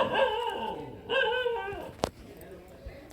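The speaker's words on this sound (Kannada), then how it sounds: "ಇನ್ನೊಂದು ನಾಯಿ ಇದೆ, ಹೇಗೆ ಹೊಗಳುತ್ತೆ" A dog gives a few whimpering, yipping barks, then a sharp sound and a faint thump, heard close by in a garden with a well and a tall tulsi plant.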